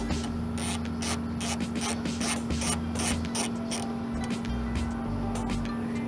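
Ratchet clicks come in steady short bursts while mounting nuts are tightened on a 2010-2015 Toyota Prius side view mirror, close up over a constant low hum.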